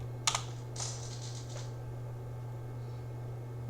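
A few quick keystrokes on a computer keyboard while entering a root password, a short burst of close clicks near the start followed by a steady low electrical hum.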